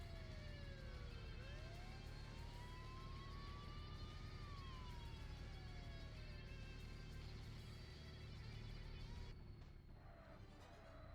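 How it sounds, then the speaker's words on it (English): Police car siren in the racing video game Tokyo Xtreme Racer Zero, a rising and falling wail over a steady engine drone and road noise, moderately loud, easing off near the end. "Oh, we went past the police car."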